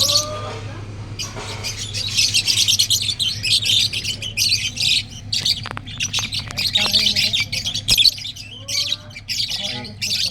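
Caged egg-laying birds chirp and squawk busily at close range, sharp overlapping calls with a faint hum underneath.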